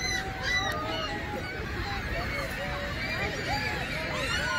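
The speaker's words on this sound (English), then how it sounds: "oh my goodness, look at all these birds" Dense chorus of honking birds, like geese, fills the air continuously with crowd chatter mixed in, loud and busy outdoors at the Cave of Winds, Niagara Falls, New York side.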